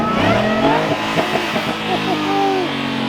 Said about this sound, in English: Supercharger, baby. Let's hear a whine.